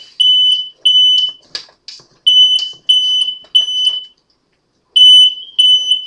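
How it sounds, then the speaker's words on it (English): A kitchen smoke alarm, tripped by heat from cooking, shrieks in loud repeated high beeping bursts with short gaps and a longer pause before it resumes, with no talking over it. "I had a crazy alarm. If it gets too hot in here, that thing goes off."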